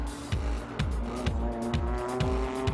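Renault Megane Euro Cup race cars power through the first turn at Moscow, engines revving hard in repeated rising sweeps while tyres squeal, the loud racing roar continuing throughout.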